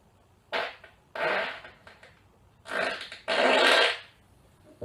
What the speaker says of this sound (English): shout out to gas provider for that fart